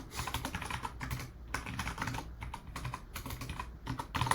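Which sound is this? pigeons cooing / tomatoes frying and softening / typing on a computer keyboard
typing on a computer keyboard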